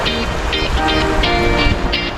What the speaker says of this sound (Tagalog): Kaso malakas ang hangin.